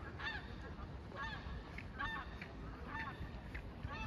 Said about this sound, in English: The ducks are getting the fuck out of here.